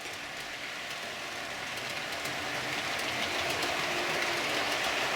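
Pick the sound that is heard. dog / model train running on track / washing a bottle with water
model train running on track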